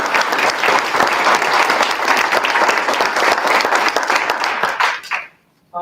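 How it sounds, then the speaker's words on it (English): Applause at a school board meeting: a room of people claps steadily and loudly for about five seconds, then the clapping stops abruptly into near silence. "round of applause"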